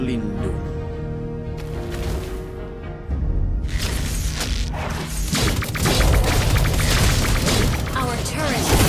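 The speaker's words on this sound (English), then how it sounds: "Our turret has been destroyed." A turret being destroyed in the mobile game Mobile Legends, heavy crashing booms and impacts over game music, with voices speaking throughout.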